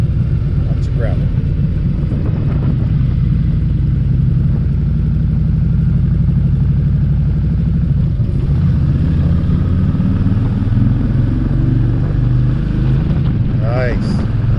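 A motorcycle is ridden fast along a gravel road, its engine droning loud and steady up close with road and wind rush, and a voice is heard briefly near the end.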